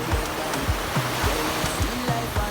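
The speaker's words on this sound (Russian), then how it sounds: "пенистое море." Foamy sea surf washing onto a long, clean beach on Palawan, a steady broadband wash of breaking waves with low rolling surges repeating every half second or so, close and continuous with no voices.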